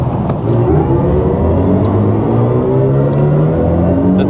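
A 2024 BMW i5 M60 electric car with 601 horsepower accelerates hard on the Autobahn, heard from inside as a loud steady rumble with rising tones climbing smoothly in pitch.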